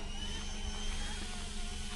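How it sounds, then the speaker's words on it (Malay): An RC helicopter flies at Bernam River Airfield, giving a steady, continuous whirring drone with a fast rotor chop, sounding fairly close and alone. "helikopter RC"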